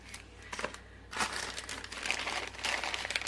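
A plastic baggie crinkles and rustles as pearl trim is pulled out of it, irregular crackling handling noises close by, growing busier in the second half.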